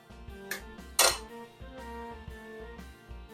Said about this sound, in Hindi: सबसे पहले जो हमारे एग्स हैं हमने इस तरह से तोड़ लेंगे